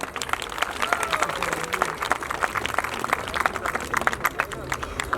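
Applause and cheering from an audience at a police honours ceremony in Delhi, with many sharp claps rising and falling in busy bursts over crowd murmur and a voice over a speaker system.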